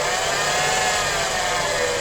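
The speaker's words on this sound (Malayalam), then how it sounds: "നല്ല രീതിക്ക് ബെയറിങ് പോയ നോയ്സ് ഉണ്ട്" A Tata Indigo engine with a worn belt tensioner bearing runs at idle, making a steady, dense, buzzing whine at close range with no break.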